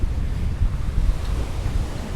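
Strong wind gusts of 20 to 25 knots at sea aboard a sailboat, a continuous low roaring buffet across the microphone mixed with rushing water, loud and steady throughout.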